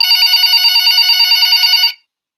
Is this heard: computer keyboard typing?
no